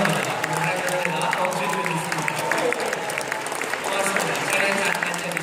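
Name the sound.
congregation applauding in church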